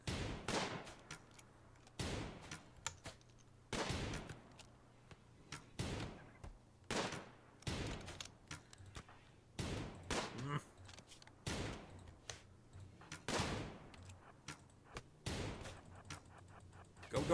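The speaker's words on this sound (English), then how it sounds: "Stop shooting the wall, damn it." Gunfire in the video game RimWorld, a steady run of sharp, punchy shots spaced a second or so apart over a continuous low background, fairly close and evenly loud.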